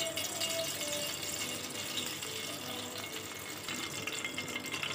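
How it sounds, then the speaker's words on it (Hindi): Half a bowl of cooking oil poured into a pan while making masala for besan khandiyan in a home kitchen, a steady unbroken liquid pour running the whole time with no talking. "इसमें हम डालेंगे तेल"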